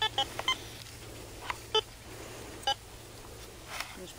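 Metal detector beeping outdoors during a treasure-hunting dig, short separate electronic beeps scattered irregularly over a steady low hum, moderately faint with no talk.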